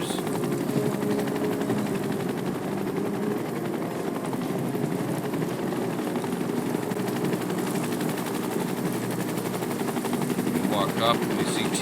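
Shinra helicopter rotors in the video game Final Fantasy VII Rebirth thrum steadily throughout, a dense mechanical drone with some rattling, like gunfire or machinery, mixed in game-like ambience.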